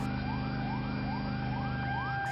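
Fire engine sirens at a burning shop-house row, a continuous loud wailing sweep repeating about every half second over a steady engine drone, with no talk.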